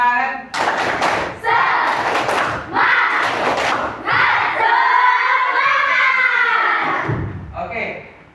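A classroom group performs a rhythmic spirit clap chant, with loud bursts of clapping and shouted voices in quick repeating patterns that build into a sustained crowd cheer before trailing off.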